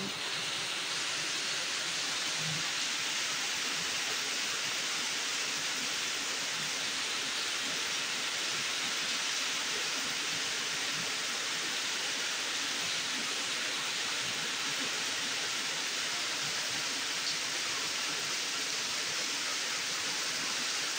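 Steady, dense hiss of heavy rain pouring continuously for the whole stretch, broadband and unbroken, with no voices.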